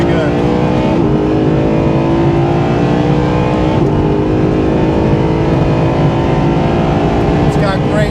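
A Mercedes SLS Black Series engine roars loudly and continuously from inside the car on the Nürburgring, rising through the revs with quick dips at gear changes.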